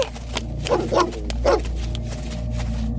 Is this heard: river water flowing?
no